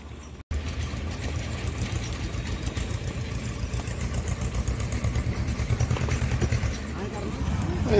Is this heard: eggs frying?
no